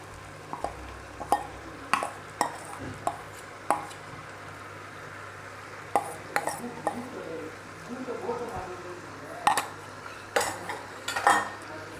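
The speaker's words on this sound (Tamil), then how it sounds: "இப்போ நம்ம மசிச்சு வச்சுருக்கிற மசியலை இதில் போடும்." Mashed elephant foot yam goes into a cooking pan with tamarind and spices, bringing repeated metal spoon clinks and scrapes against the pan at an irregular rhythm, close and moderately loud.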